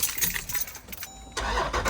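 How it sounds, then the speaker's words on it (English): An SRT Jeep engine cranks and catches, settling into a steady rumble, preceded by faint jingling of keys nearby. "Start the car."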